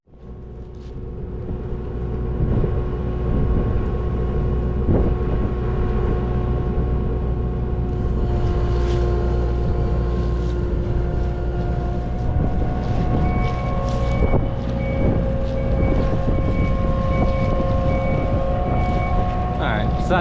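A skid steer engine runs steadily with a low, constant rumble throughout. A short run of high, evenly spaced reversing beeps comes in partway through, over the engine drone.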